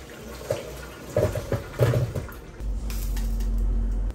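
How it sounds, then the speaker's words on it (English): Hot water from boiled potatoes pours through a kitchen strainer, a few short splashes and gurgles at first, then a steady close rushing drain that runs to the end. "Let's get these boiling potatoes drained."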